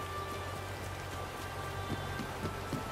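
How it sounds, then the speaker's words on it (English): Steady rainfall in the Disney Dreamlight Valley video game, a dense even patter of drops on surfaces with a low continuous hum underneath, no voices. "It's funny that it's raining in game because it's rainy here where I live."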